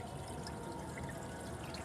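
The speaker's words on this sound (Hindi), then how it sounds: "ये मैं पानी को बहा रहा हूँ, ये गटर में बहा रहा हूँ इस वक्त में" Water being poured down a gutter drain trickles in a faint, continuous stream with a soft, even splashing texture.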